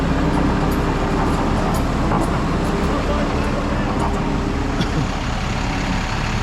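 A dump truck idles on a residential street, its diesel engine giving a loud, steady low rumble throughout, with someone talking over it.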